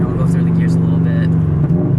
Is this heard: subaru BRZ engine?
yes